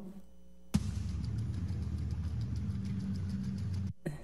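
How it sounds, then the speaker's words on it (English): A steady rushing roar of running water starts abruptly and holds constant for a few seconds before cutting off. "This is the sound of water that has been running through the school"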